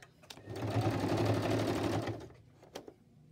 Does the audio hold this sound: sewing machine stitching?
yes